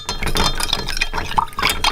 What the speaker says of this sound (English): We'll give it a good stir to combine it.